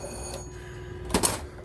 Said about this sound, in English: We have our sound-powered phone station.